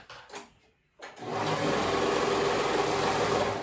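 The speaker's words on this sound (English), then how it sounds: "So you're gonna sew that raw edge right there." A sewing machine runs steadily as it stitches along a raw fabric edge while making a one-shoulder bubble romper, starting after a few brief quiet handling sounds and then humming continuously and loud to the end.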